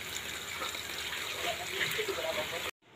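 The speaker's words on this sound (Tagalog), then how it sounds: "Lagyan muna natin ng tubig." Water gushes and splashes from a tap into a cooking pot in a home kitchen, a steady close stream that cuts off abruptly near the end.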